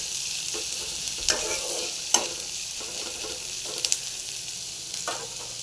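Onions fry in a pan for besan fritters, giving a steady, close sizzle with occasional scraping stirs of a spatula and a few sharper pops.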